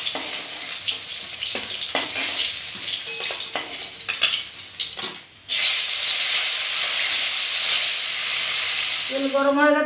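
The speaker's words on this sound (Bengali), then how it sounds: "এইভাবে সব মাছগুলো ভেজে নেব।" Rohu fish pieces frying in hot oil give a loud, steady sizzle with scattered pops and crackles, broken by a short dip midway before the hiss swells back even stronger, with a faint voice near the end.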